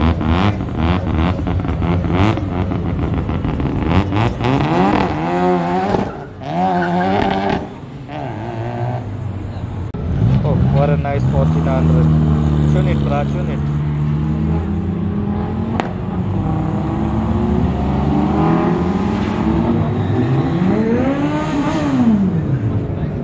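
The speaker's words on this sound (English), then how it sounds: "There's a RX-7 coming out. Sounds like it's got a rotary in it." A Mazda RX-7 with a rotary engine revs at a Sunday drag racing event, its rising and falling engine notes loud and close, with brief pauses between bursts and voices in the background.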